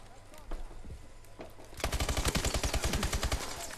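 Assault rifle gunfire in the shooter Call of Duty: Advanced Warfare: a few scattered shots at first, then a sustained rapid automatic burst of evenly spaced, punchy reports lasting about two seconds, loud and close.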